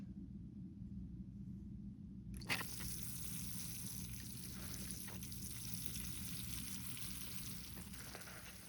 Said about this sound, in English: Let's get some water on this thing.